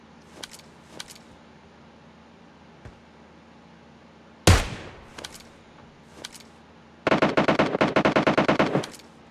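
AKM bursts in the PUBG video game, a single sharp shot followed later by a rapid stuttering automatic volley, with faint scattered shots and clicks in between.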